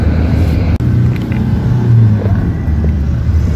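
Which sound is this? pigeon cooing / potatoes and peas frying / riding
riding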